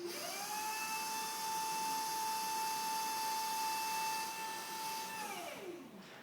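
Forklift truck hydraulics in use on a counterbalance forklift: a steady, loud motor whine rises in pitch at the start, holds level for several seconds, then winds down and fades at the end.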